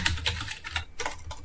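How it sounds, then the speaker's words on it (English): Quick, steady typing on a computer keyboard, a close run of light key clicks with no voices. "typing into the navigation bar at the top of our preferred search engine"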